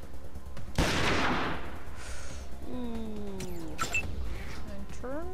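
Gunshots in a video game set in a cave: a loud sharp blast followed by a long echoing decay, then scattered shots and electronic game tones, with a voice talking faintly.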